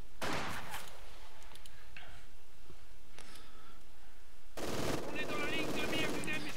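Machine guns rattle in Company of Heroes 2, with bursts of rapid fire, a brief lull, then a renewed heavy volley, as a soldier's voice speaks over the battle.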